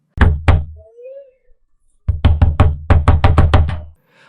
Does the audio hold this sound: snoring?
no